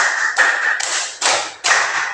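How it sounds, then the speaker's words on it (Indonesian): Five sharp hand claps counted out one by one in a classroom game, evenly spaced, loud and close, each ringing briefly before the next. "Tepuk 1, tepuk 2, tepuk 3, tepuk 4, tepuk 5"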